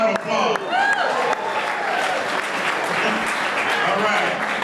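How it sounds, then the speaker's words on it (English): A political rally crowd applauds and cheers for the babies of Highland Hospital in the audience, dense clapping mixed with whoops and shouting voices throughout. "Give them a round of applause."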